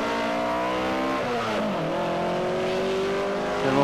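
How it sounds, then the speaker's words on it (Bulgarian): A well-prepared Zhiguli rally car on a mountain sprint course in the Sliven Balkan, its engine droning loud and close with shifting revs as it passes, with no voices. "едно перфектно подготвено Жигули"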